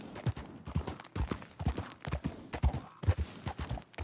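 Horse hooves clip-clop at a steady trotting rhythm in Red Dead Redemption 2, close and fairly loud, running alone throughout with no talking.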